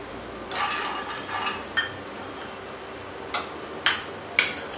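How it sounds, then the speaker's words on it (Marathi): Peanuts being dropped into a hot pan for dry roasting, heard as scattered light clinks and taps against the metal over a quiet kitchen background. "आपण आता पहिले शेंगदाणे भाजून घेऊ."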